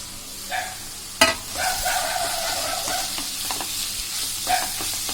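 Beans, carrot, green chilli and mint are sautéed in a pan with a steady sizzle, broken by spatula stirs and a sharp metallic clank early on. No one speaks.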